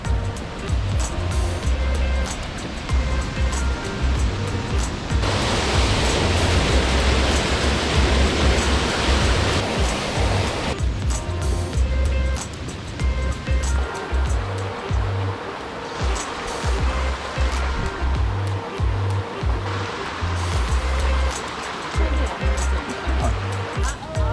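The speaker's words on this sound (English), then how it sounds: "You'll probably hear the water." Stream water rushes beneath a footbridge on a Lake District hike near Ullswater, a loud, steady broadband roar that swells in places, with occasional faint rustles and no clear voices.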